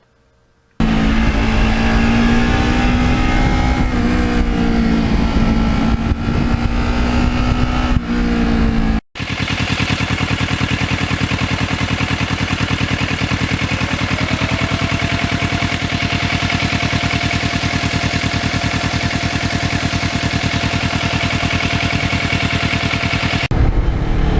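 A 2009 Kawasaki Ninja motorcycle ridden along Road 106 gives a loud, close engine drone with steady rising and falling revs, then a brief cut followed by a sustained, constant cruising roar mixed with wind rush.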